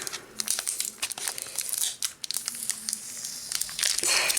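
Sticky tape crackles and tears as it is pulled off Pokémon booster packaging, a continuous crinkly ripping close to the mic with brief pauses.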